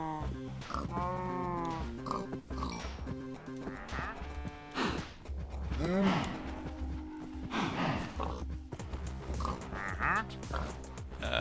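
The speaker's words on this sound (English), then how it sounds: "this is the cow and pig hole." Minecraft cows and pigs make their blocky game calls, oinks and grunts popping up repeatedly alongside a mooing cow and a few other game sound effects, fairly close and clear with no talk.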